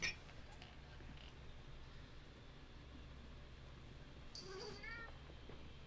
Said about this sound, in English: guys hear the kitty?